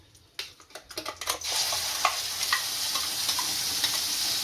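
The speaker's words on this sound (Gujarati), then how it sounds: "આપણે જે ગ્રેવી બનાવી હતી એ નાખશું" Prepared gravy goes into hot oil seasoned with asafoetida in a pan for a Kathiyawadi-style green chickpea curry. A few sharp clicks and scrapes come first, then a loud, steady sizzle holds close up with occasional stirring taps.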